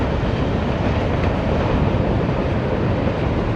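A passing train near a river rumbles as a steady, loud, broadband roar with a wind-like hiss throughout, no voices.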